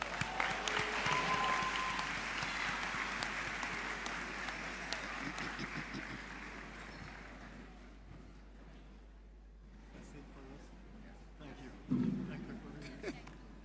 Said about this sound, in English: we clap the hands to the Lord.